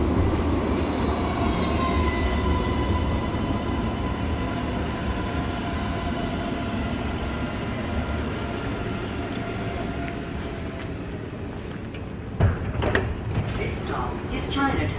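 Alstom Citadis 305 tram of Sydney Light Rail heard from on board while riding, with a steady rolling rumble and a rising motor whine that fades, then clunks and rattles near the end.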